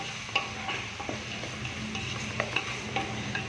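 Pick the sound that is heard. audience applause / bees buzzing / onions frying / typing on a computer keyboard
onions frying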